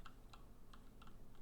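Quiet keystrokes on a computer keyboard, a handful of soft, irregular clicks under a low background hum.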